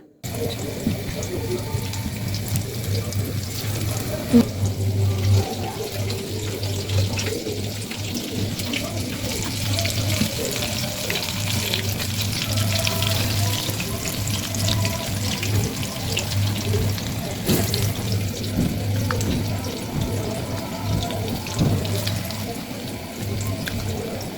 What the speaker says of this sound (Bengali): বেসনের মধ্যে ভালোভাবে চুবিয়ে তেলে দিয়ে দিব